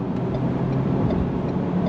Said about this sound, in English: let's get out onto the highway and see how this truck is going to drive